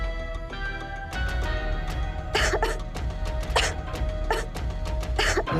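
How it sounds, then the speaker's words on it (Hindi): Repeated coughing, several harsh bursts in a row after a quieter start, with a faint tonal background underneath. "तुम्हें तो खांसी हो गई"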